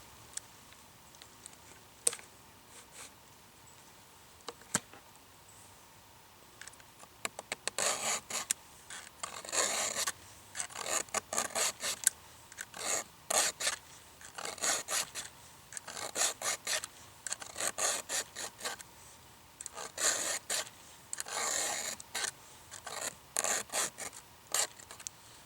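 Hand file rasping across a chainsaw chain's cutters in quick repeated strokes, bursts of scraping grouped in rhythmic runs with short pauses between, close up and moderately loud.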